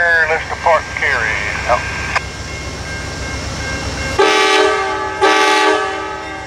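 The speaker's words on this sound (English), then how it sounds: "Here they are pulling out Amtrak PO80, the 130 Heritage unit on the leads." Amtrak passenger train led by Heritage unit 130 pulls out of Cary station, its horn sounding two strong blasts over steady rail rumble, with voices heard earlier in the clip.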